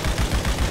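Rapid bursts of gunfire in Grand Theft Auto roleplay, dense and loud, sound like an automatic weapon hammering away in quick succession with no talk over it.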